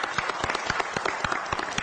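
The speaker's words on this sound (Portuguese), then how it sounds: "vamos aplaudir o professor Donato!" An audience applauds Professor Donato at a Florianópolis event, a steady, dense burst of clapping with sharp individual claps standing out from the wash.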